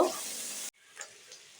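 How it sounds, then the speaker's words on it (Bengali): Chopped onions sizzle loudly in hot leftover oil in a wok for a moment, then the hiss cuts off abruptly and only a few faint scrapes and clinks follow. "কুচানো পেঁয়াজগুলো আমি একটু লাল লাল করে ভেজে নেব।"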